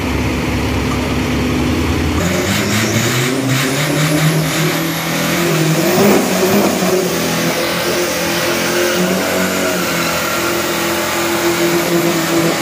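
Isuzu pickup truck with a 1.9-litre turbo diesel revving hard and close, the engine note climbing and holding at high revs without any talk.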